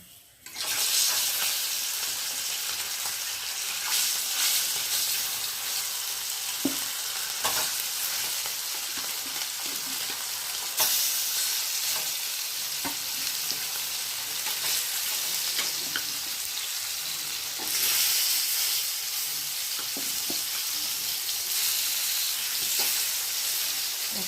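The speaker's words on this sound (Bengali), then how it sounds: "একে একে মাছগুলো দিয়ে ভেজে নেব" Fish sizzles steadily in hot oil, a dense crackling hiss close by that holds at an even level throughout.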